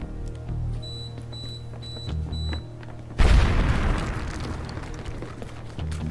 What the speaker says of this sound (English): That small ass explosion